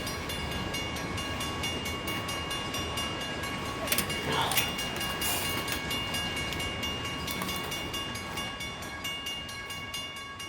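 A model train runs on an RO scale layout with a steady rolling rumble and a continuous tonal hum. Brief clicks sound near the middle, and a faint voice is heard under it.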